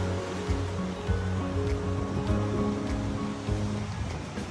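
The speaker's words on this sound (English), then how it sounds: "hearing the waves crashing against the stones" Waves crash against stones on the shore at Maemiseong in Korea, a close, continuous surf rush with repeated surges. A steady tonal hum runs underneath.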